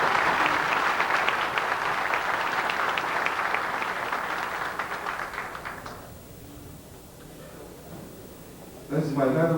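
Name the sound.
audience applause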